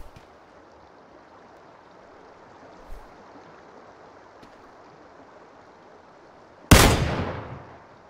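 A single loud sniper shot cracks out in a shooting video game, its sharp report tailing off into a decaying echo. Several seconds of faint background hiss and a small thump come before it.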